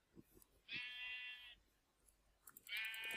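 Two bleats from a sheep in Minecraft, each about a second long, clear and close, separated by a brief quiet pause.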